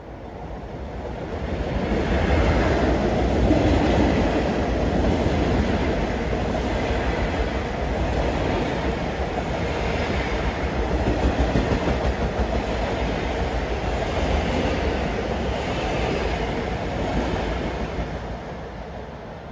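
An eastbound Long Island Rail Road train on the Port Jefferson Branch passes near Stillwell Preserve, a loud, sustained rushing roar of wheels and cars with faint rhythmic clatter, swelling and holding for about twenty seconds.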